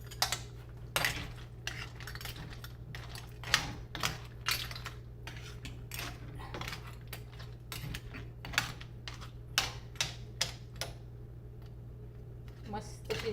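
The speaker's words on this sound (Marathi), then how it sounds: "ह्या बघा आता मी या शिंप्या घालत आहे." Clams in their shells dropped into a cooking pan for a Malvani-style clam curry, a steady run of hard, clattering shell clicks and knocks against the metal over a low hum, with a voice talking quietly now and then.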